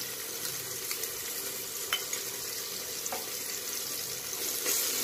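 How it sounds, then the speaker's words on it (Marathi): Ginger garlic paste frying in a hot pan for Nilanga rice, a steady close sizzle and hiss with occasional stirring scrapes, continuous and moderately loud. "अद्रक लसूण पेस्ट टाकणार आहोत आपण त्यात।"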